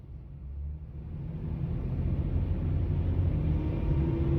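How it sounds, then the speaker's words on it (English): Dense highway traffic leaving Pittsburgh, heard from inside a moving car: a steady low rumble of engine and road noise that swells slightly over a few seconds, with no talk. "Pretty thick traffic. Trying to get out of Pittsburgh."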